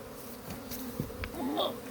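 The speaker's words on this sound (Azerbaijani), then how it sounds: "Orada da sarı axmaq arı var." A yellow wasp buzzing near a beehive in a garden apiary, a faint droning hum that rises and falls as it moves about, close by against quiet outdoor background.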